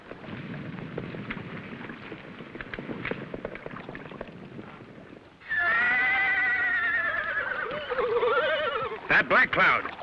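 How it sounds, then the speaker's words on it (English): A war horse in an old Western TV episode lets out loud, wavering whinnies in the second half, following a stretch of talk and background noise. "Black Cloud, that Lame Bear's war horse."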